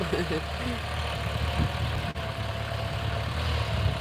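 A farm tractor's engine idling in a field during plowing season, a steady low rumbling drone throughout, with a person talking over it.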